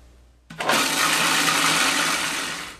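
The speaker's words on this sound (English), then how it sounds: "So our mousse has been blending now for several minutes" A blender whirring on chocolate mousse for a chocolate cherry tart starts abruptly after a brief quiet moment, then runs as a loud, steady roar before easing slightly toward the end.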